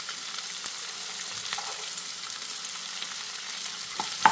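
Cauliflower thoran frying in a pan while being stirred, giving a steady, close sizzle with occasional scraping and clinking taps of the spoon, and no voices.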